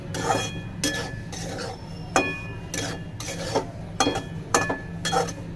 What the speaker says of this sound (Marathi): तेल गरम झालेलं आहे त्यामध्ये मी रवा टाकून घेते आणि छान असा आपल्याला रवा परतून घ्यायचा आहे